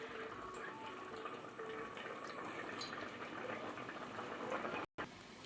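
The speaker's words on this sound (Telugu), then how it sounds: "ఇక్కడ మనం పచ్చెనపప్పు కడుక్కొని 1 గంట నానబెట్టామండి. ఇప్పుడు ఈ కర్రీలో యాడ్ చేసేసుకోవాలి." Soaked chana dal tipped into a pot of simmering mutton curry, giving a steady wet pouring and bubbling wash that runs evenly throughout with no voices.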